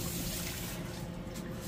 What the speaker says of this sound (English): we have got some water going right here